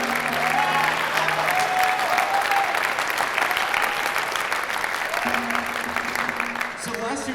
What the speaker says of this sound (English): But can we give a round of applause for Kevin and Andrew?